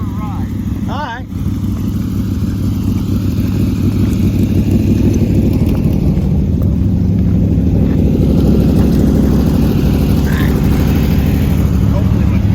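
A rat rod car's engine drones loudly and steadily from inside the cabin during a ride, a low rumbling hum with voices briefly heard near the start.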